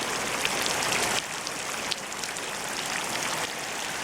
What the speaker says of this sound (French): depuis c'est le déluge